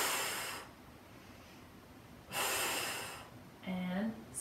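Two loud, deep breaths during a home barre workout class, each a long audible inhale-exhale with quiet pauses between, followed by a short voiced sound.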